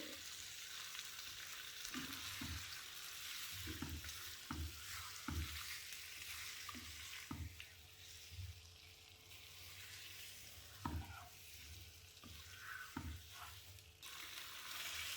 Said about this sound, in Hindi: और अब इसे हम हाई फ्लेम पे कुक करेंगे।